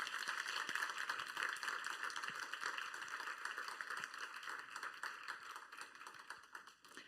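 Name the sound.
audience applause after a talk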